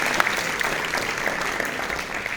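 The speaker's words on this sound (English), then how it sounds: "Big applause to him." Audience applause at a chess tournament prize giving, steady clapping from a crowd that holds level through the whole stretch without pause.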